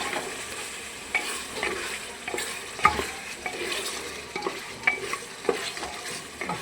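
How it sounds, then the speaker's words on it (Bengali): Beef brisket, boiled first in a pressure cooker, being stir-fried in a pan: a low sizzle with repeated scraping and clacking stirring strokes at an uneven rhythm, close up and without voices. "এটা গরুর মাংস, সিনাটা। তো আমি কষাচ্ছি।"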